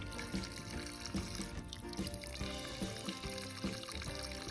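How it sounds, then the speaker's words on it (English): Room-temperature water is poured into the drain opening of a pool pump, where some ice sits, and it runs in a soft, continuous trickle close to the microphone with no talking. "I'm using some room temperature water and then just pouring it into there, and that made the flow a lot faster"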